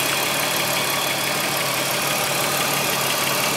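A 1995 BMW 325i E36 with its 2.5-litre 24-valve dual overhead cam inline six sits idling, a steady, even engine drone with no voices over it.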